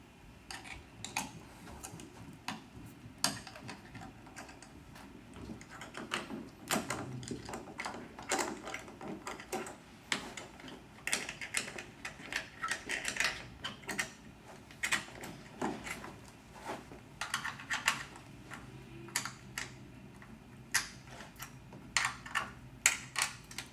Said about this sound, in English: Using the same Allen wrench, then, we're going to remove the 4 bolts located on the underside of the left-hand armrest.